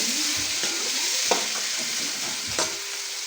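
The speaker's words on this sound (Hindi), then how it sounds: "एक तरफ ये प्याज मैंने डाल दिया, ये फ्राई होगा, इसको थोड़ा टाइम लगेगा, ये फ्राई हो रहा है" Onions frying in about four spoons of oil for a Bombay biryani, giving a steady close sizzle with a few brief stirring knocks throughout.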